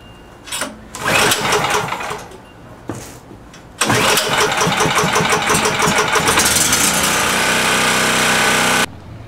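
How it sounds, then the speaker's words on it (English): A Champion 3400 watt RV-ready generator is pulled over, sputters briefly, then catches on a second attempt and settles into a steady, loud, close running drone that cuts off near the end. "it should fire right up without the choke"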